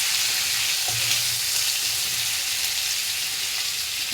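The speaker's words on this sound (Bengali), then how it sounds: "চিংড়ি মাছটা ভেজে আমি তুলে নেব" Prawns fry in hot oil with a steady, dense sizzle and crackle that holds evenly throughout, close and alone without talk.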